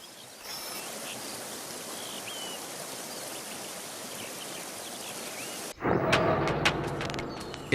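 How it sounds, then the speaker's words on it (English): River rapids rush on Alaska's McNeil River as a dense, steady roar of churning water that carries on without pause before cutting to a louder, nearer patch of splashing. "At rapids like these, on Alaska's McNeil River, a wily group waits for the salmon to arrive."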